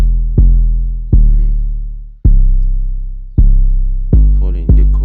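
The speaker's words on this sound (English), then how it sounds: "the 808" Deep booming 808 bass in a beat made in FL Studio, a series of heavy low notes with sharp attacks and long, slowly fading tails, changing pitch and rhythm, loud and alone.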